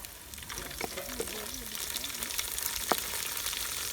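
Fish frying in a pan with browned, softened onions over a primitive fire in Africa gives a steady close hiss and crackle, with a brief tonal voice sound and one sharp tap partway through.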